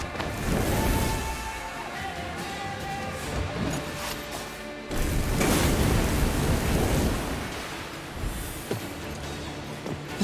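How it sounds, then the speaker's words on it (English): A thunderstorm with rain in the video game Thronebreaker: a steady wash of rain noise with rolling rumbles of thunder surging and fading throughout, no voices present. "The storm is coming."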